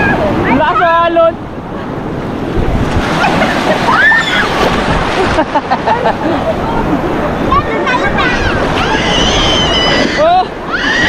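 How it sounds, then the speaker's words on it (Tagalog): Continuous crashing of strong ocean surf and wind noise at a beach under lively talk and children's shouts, the water's roar holding steady for the whole stretch. "Lakas ng alon."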